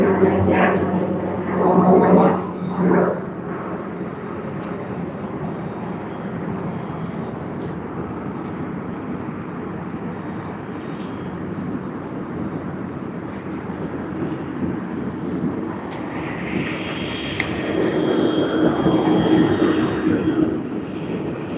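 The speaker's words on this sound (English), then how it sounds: "We have Jetstar's A321 service coming in from Denpasar." A Jetstar Airbus A321 airliner arrives at Sydney Airport, a broad steady jet roar that holds for the whole stretch and swells toward the end as the aircraft passes closer. Faint voices sound briefly near the start.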